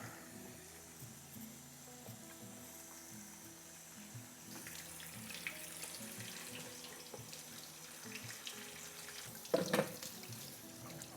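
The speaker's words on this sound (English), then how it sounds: "all right, now I'm gonna water." Water trickles and pours quietly from a tap onto a potted plant, thin at first, then fuller, with a brief louder splash near the end.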